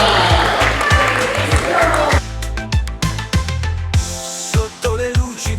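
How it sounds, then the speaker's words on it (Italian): Applause at a Miss Principessa d'Europa pageant selection for contestant Giada, a burst of clapping at the start that gives way to loud thumping stage music with strong bass beats. "Un applauso a Giada"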